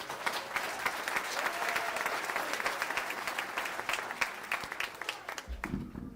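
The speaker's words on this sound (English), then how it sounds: "Let's give them all a big round of applause." A commencement audience at a Southern California graduation ceremony applauds military veterans, past and present, with dense sustained clapping that fills the hall steadily and only begins to thin near the end.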